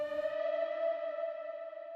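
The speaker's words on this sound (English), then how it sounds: "It's like a little screeching noise." A synth tone drenched in heavy reverb rings out as a sustained, screeching tonal slide, bright and steady for two seconds with a brief noisy onset.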